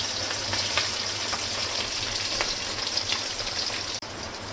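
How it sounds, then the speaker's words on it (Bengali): Egg pieces fry in hot oil in a wok, giving a steady close crackling sizzle with scattered pops that continues throughout, with no voices. "কড়াইতে তেল দিয়ে দিয়েছি, ভেজে নেব।"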